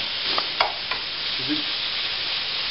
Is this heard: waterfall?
no